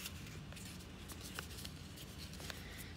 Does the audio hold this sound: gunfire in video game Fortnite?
no